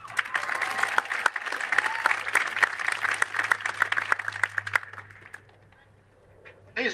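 Audience applause for seniors of a high school marching band at a band expo: dense clapping with sharp individual claps, loud at first and then thinning and fading out, with a low steady hum underneath.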